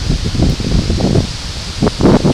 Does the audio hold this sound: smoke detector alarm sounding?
no